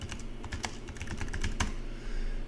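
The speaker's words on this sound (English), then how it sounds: "And just type in Device Manager." Quick keystrokes clatter on a computer keyboard in a short, close burst of uneven taps over a low background hum, with no speech.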